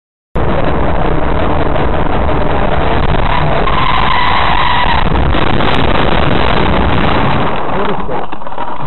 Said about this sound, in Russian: ты разбил нахуй машину